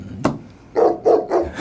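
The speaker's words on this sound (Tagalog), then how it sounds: "Pakiulit ng tahol mo." A dog barks repeatedly, with one sharp yip followed by a run of four evenly spaced barks, close and fairly loud, with no talking over it.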